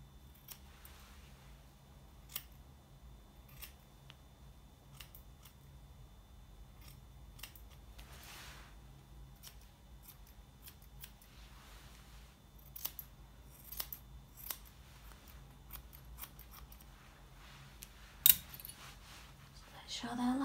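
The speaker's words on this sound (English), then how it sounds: "I'm going to cut a semicircle from one eye to the other." Small grooming scissors snip at a Havanese dog's eyebrow hair, trimming a semicircle between the eyes; scattered quiet clicks come irregularly over a low room hum, with one sharper snip near the end.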